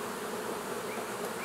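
Honeybees swarm thickly around a hive during hive mapping with escape boards, their buzzing a dense, continuous, close drone that fills the clip with no voices.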